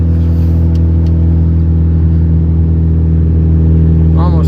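Toyota Camry engine hums loud and steady from inside the moving car, a constant low drone under sustained throttle with a brief higher whine near the end.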